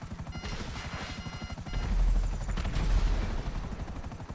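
Helicopter in GTA 5 Online during a solo mission, a steady rotor chop and engine drone that swells around the middle, with what may be gunfire or missile bursts mixed in.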